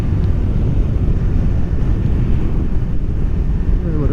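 Strong wind buffets the microphone on a Honda NC750XA motorcycle ride, a constant loud rumbling roar with no breaks.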